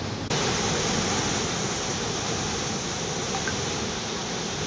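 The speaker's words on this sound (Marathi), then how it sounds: "इथला वाजर बंधाराही तुडुंब भरलाय। त्यातून पाण्याचं असं मार्गक्रमण सध्या सुरू आहे" The flooded Yerala river in Sangli pours over the brimming Vajar weir in a loud, steady, broadband rush of water that starts suddenly and holds constant with no voices.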